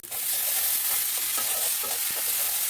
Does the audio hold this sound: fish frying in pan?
yes